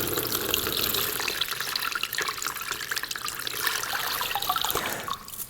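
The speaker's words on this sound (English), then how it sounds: "you're going to simply pour boiling water over the chain" Boiling water poured over a waxed bike chain in a drainer, a continuous splashing, trickling pour that tapers off near the end, with no talking.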